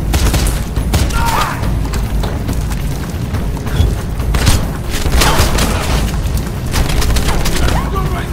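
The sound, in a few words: gunfire in video game Wanted: Weapons of Fate cutscene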